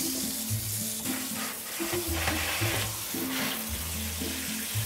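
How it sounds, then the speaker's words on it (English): Cold tap water runs in a steady, full rush while cooked beans are rinsed in a kitchen, with low background music playing underneath the whole time. "Just use regular water out of your tap."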